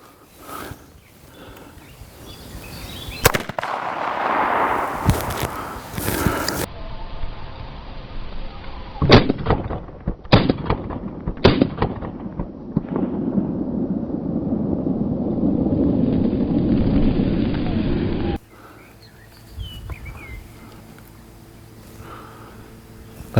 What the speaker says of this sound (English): So we're going to see you over here and we'll shoot some off with the decibel meter.